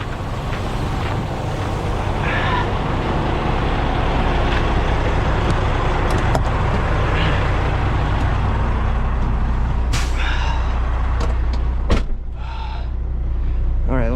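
A Volvo A40G hauler rolls along with a constant low engine drone and road rumble, steady and close inside the cab, with a few brief clicks and rattles toward the end.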